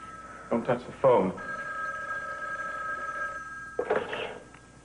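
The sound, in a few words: telephone bell ringing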